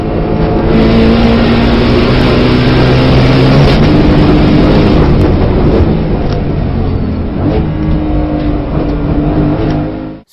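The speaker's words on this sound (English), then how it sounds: "Number 7. Ford Mustang GT3 competition." Ford Mustang GT3 race car lapping the Nürburgring, its loud engine roaring steadily close by for the full stretch, with harmonic tones shifting through gear changes and a brief fade at the end.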